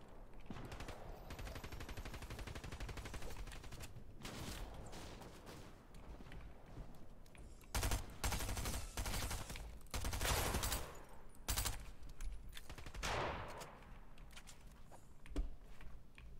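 Dense bursts of automatic gunfire and rapid shots from a Fortnite match, crackling continuously with louder volleys and brief gaps, no talk heard.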